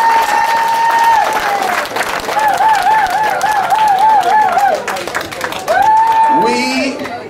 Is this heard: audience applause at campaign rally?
yes